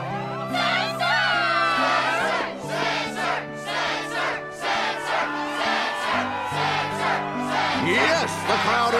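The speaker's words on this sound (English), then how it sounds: "Yes, the crowd is fired up" Crowd cheering and shouting at the Struggle tournament in Kingdom Hearts 2, a loud, sustained roar of many voices with whoops and yells rising and falling throughout, music playing underneath.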